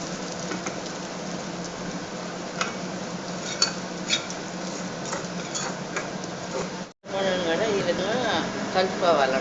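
Spices crackle and sizzle steadily in hot oil as tempering is added for a sweet potato pickle, a dense popping hiss that runs almost without pause, with a brief dropout and then renewed, livelier sputtering.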